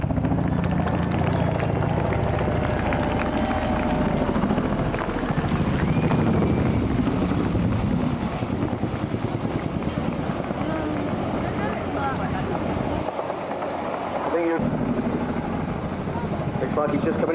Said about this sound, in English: Chinook.